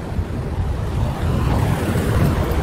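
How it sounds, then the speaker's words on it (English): Ocean waves at Kailua-Kona, Hawaii wash in a steady, broad surf roar, mixed with wind buffeting a handheld microphone, without any voices. "So here's the ocean, beautiful ocean"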